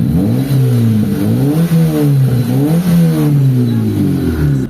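A low-power car engine that barely starts and has sat unused for a long time revs up repeatedly, no longer shaking, climbing and falling in pitch several times, loud and close with no voices.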